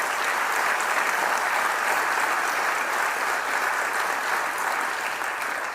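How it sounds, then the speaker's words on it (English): A room full of people at a county budget presentation gives a long, steady round of applause, the dense clapping holding an even level for several seconds before tapering slightly at the end. "So could we please give them a round of applause?"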